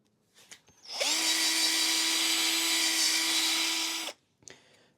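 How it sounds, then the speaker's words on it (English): A power drill with a high-grit polishing pad works a Yoshimura GSX-R motorbike exhaust, spinning up with a rising whine and holding a steady high buzz for about three seconds before cutting off, with faint handling clicks before and after. "So I've got the drill with like a polishing type pad on it, reasonably high grit"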